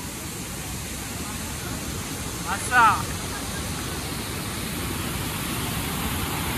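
Savdhav Waterfall in the Amboli ghat during heavy monsoon rain, water pouring down from above in a loud, steady roar that fills the scene, with a brief voice over it partway through.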